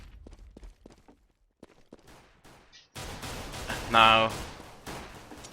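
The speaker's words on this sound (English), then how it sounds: "Leafer just shooting through that smoke" Gunfire from a competitive shooter video game: sparse sharp cracks at first, then a denser, louder stretch of shots fired through smoke, with a commentator's voice heard briefly.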